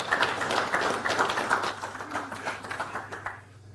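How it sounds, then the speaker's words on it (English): Audience applauding a rugby league assistant coach at a coaching forum, a steady wash of many hands clapping close by for several seconds before it dies away. "Let's give a round of applause here."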